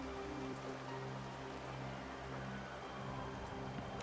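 Steady rain falling outdoors on a muddy country lane in mild weather, an even broadband hiss at constant low level, with a faint low hum underneath and no voices.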